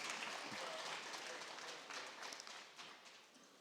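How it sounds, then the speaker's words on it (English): An audience applauds at an agriculture conference session as a minister leaves, a soft, distant wash of clapping that fades slightly toward the end. "please a round of applause for the minister as he leaves"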